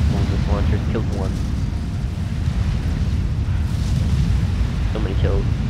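Continuous booming artillery fire and explosions from a real-time strategy game match, a dense rumbling low roar throughout with scattered sharper blasts, while a commentator talks over it.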